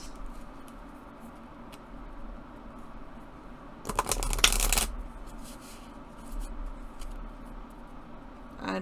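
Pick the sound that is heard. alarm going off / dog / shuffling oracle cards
shuffling oracle cards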